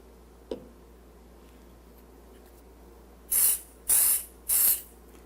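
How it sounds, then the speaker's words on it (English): GluBoost accelerator is sprayed onto a guitar neck repair in three short, sharp hissing spritzes in quick succession, close and loud after a faint tap and a near-silent pause. "Just one light spritz and then walk away for 5 minutes while it dries."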